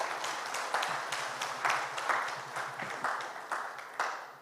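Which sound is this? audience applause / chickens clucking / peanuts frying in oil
audience applause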